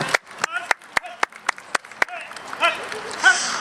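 Regular handclaps ring out at a regional dog show on Réunion Island. Each sharp clap stands apart in a steady beat, with talking mixed in and growing more prominent toward the end.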